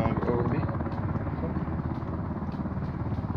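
A helicopter in the Ring of Elysium video game thrums with a steady, loud rotor chop throughout, continuous and close, with a voice faintly underneath.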